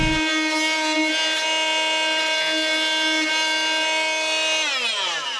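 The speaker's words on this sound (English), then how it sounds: "The first thing to do is to drill into the floor to add an electrical plug inside the pantry." A power drill bores into a wooden floor inside a pantry, producing a steady high-pitched whine that holds for several seconds before winding down as the motor slows. The sound is close and loud, with no voices.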